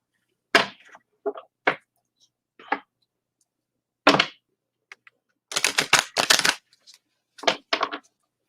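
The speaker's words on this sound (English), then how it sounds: "let me pull a card for you. Let me shuffle them up." Sharp papery riffles and snaps of cards being shuffled, coming in scattered bursts with a fast flurry near the end, close and fairly quiet.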